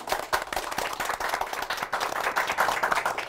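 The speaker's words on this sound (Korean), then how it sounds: "자, 그러면 오늘 수고하신 세 분의 MC분들한테 박수 부탁드리겠습니다." An audience claps for three event MCs at a Korean CEO talk show, producing dense, steady applause throughout with no voices over it.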